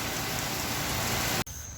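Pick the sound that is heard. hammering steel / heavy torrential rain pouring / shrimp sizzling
heavy torrential rain pouring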